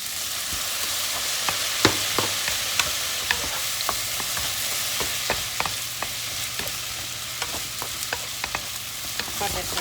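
Vegetables stir-fried in a pan after a splash of rice wine, sizzling steadily throughout while a utensil scrapes and taps the pan in frequent sharp clicks, close and fairly loud.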